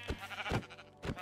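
A Minecraft sheep bleats in three quick wavering calls close to the listener, each short and nasal, evenly spaced over about a second with no talking.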